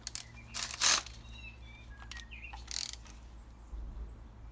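Ratcheting clicks in short bursts from a hand tool spinning spark plugs down on a Honda Civic Type R K20 engine, fairly close and quiet, with brief pauses between runs and no talk.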